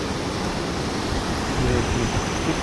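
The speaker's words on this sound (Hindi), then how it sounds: "पानी का फ्लो देख रहे हो" Clear glacier-fed water of the Yamuna river rushes in a steady, dense wash at close range in the mountains near Yamunotri, constant and fairly loud with no break.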